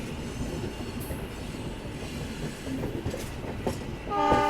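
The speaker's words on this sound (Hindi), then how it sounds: "यहाँ देखिए एल्को लोकोमोटिव शंटिंग करता हुआ पार्सल वैन की।" An ALCO diesel locomotive shunting a parcel van, with a steady rumble of rolling stock and wheel clatter. A horn-like tonal blast sounds clearly near the end, close and loud.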